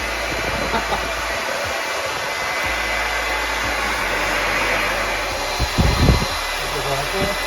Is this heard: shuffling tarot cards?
no